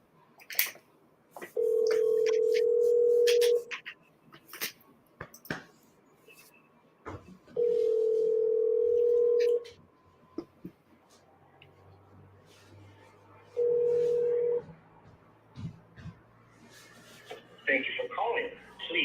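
Three long ringback tones from an unanswered phone call, each about two seconds with gaps between, loud and steady, with faint background noise and some talk near the end.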